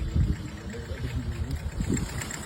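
A motorcycle engine idles close by, a steady low rumble with uneven throbbing pulses running through the whole stretch, fairly loud and without talk.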